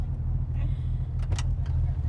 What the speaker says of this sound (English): Just doing 75 on the highway and banging through the 6 speeds is a really great driving experience